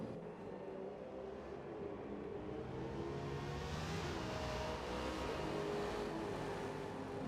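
Audi and Aston Martin race cars at Silverstone in a racing game, running side by side into a heavy braking zone. A continuous engine roar holds fairly steady and loud with no other sounds over it.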